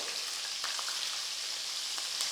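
Finely chopped green chillies and mustard seeds sizzle in hot oil in a pan while cooking kande pohe, a steady, bright crackling fry with small pops throughout and no talking.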